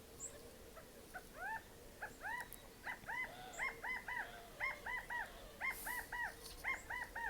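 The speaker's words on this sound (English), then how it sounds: "And the birds." Birds call outdoors at dawn, a steady run of short paired caw-like cries repeating in a loose rhythm, moderately close, over a faint constant background hush.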